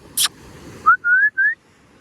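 A person whistles to call a dog out by the sea: three short, rising, fairly close whistles in quick succession, preceded by a brief hissy burst.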